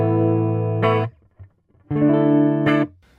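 An electric guitar plays through an amp on a clean channel with no effects, two sustained chords ringing bright and loud, each cut off sharply, with a short muted pluck between them.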